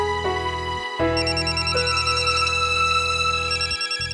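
A mobile phone plays a tonal ringtone with a repeating melodic pattern and a steady, close, fairly loud level, with no voices.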